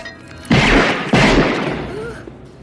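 Two loud, booming gunshots ring out in a Child's Play film scene, about half a second apart, each with a long, echoing decay.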